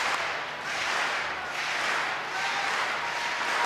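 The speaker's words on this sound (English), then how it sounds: "everyone in the stadium is clapping in unison" A stadium crowd at a Commonwealth Games long jump event claps together as an athlete prepares her jump, a broad, steady roar of massed hands heard from a distance with a gently swelling rhythm and no talk.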